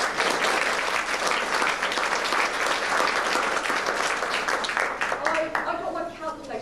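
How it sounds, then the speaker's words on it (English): Dense audience applause fills the room, loud and sustained, thinning slightly toward the end as the clapping fades out. "That in itself deserves a round of applause."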